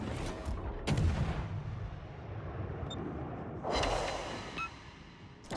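Gunfire aimed at the player's ship in a naval video game with French destroyers: booming shots near the start and again later, each followed by a fading rumble over a quieter stretch in between.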